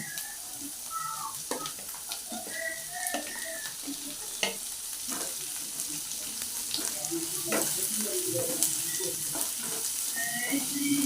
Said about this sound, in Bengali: এই পেঁয়াজগুলো একটুখানি ভেজে নেব